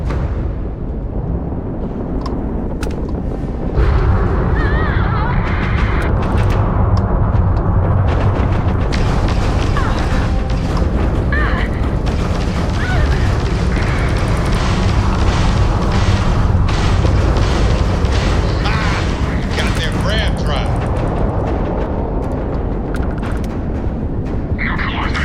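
Weapons fire and explosions in a Starfield space battle, a dense continuous barrage of booming blasts and gunfire that grows loud after a quieter opening and keeps rolling throughout.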